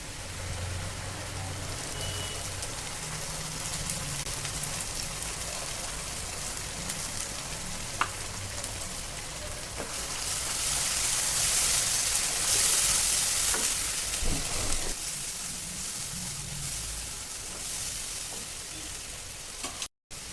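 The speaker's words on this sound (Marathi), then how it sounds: "आता यामध्ये आपण वाटलेलं वाटण घालून भाजून घेऊया" Ground masala paste roasts in hot oil in a pan over browned onions for spicy masala brinjal. A steady, close sizzle and crackle runs throughout and swells louder midway, with faint stirring scrapes and no voices.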